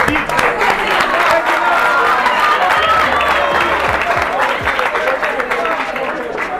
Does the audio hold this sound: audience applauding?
yes